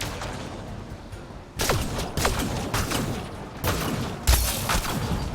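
Enemies fire on the player in Mass Effect: Andromeda, with heavy bursts of gunfire arriving in several loud volleys and booming impacts after a quieter opening.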